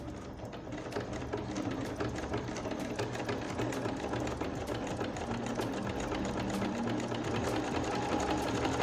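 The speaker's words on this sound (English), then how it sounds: "press this reverse button right here. So I'm just going to press this. Okay, so that kind of control the stitch and makes it start sewing backward." A domestic sewing machine stitching in reverse while making a buttonhole, a steady close rapid mechanical chatter that runs continuously and alone throughout.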